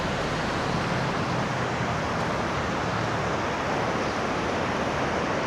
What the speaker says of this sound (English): Yeah, the water is running here.